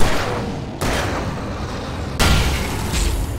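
Explosives go off in the video game Alan Wake Remastered, with two loud, sharp blasts about a second and a half apart, each trailing into a dense, noisy rumble.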